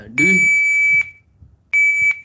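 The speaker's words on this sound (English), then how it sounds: "did you hear that beep?" An electronic demo circuit gives off two shrill, steady tones, one lasting nearly a second and a shorter one after a pause, loud and close over faint room noise, with a voice briefly audible at the start.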